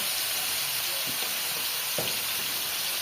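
Fish frying in oil in a home Bangladeshi kitchen, giving a steady close sizzle and hiss with a few soft pops and stirring knocks and no talking.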